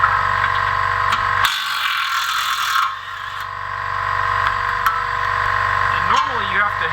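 Ratchet with a 21mm socket loosening the steering arm on a 2015 Jeep Grand Cherokee, a steady close clicking run with a louder burst of rapid ratcheting partway through, over faint background hum.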